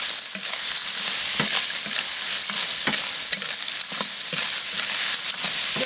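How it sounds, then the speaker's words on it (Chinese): River snails stir-fry with soaked dried chili in a hot wok, a steady close sizzle broken by the scrape and clack of shells being tossed by the spatula. "炒一下，下入这个螺丝一起炒"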